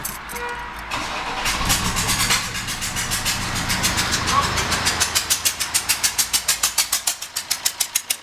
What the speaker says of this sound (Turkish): orayı temizledikten sonra açık haldeyken aracı çalıştıracağız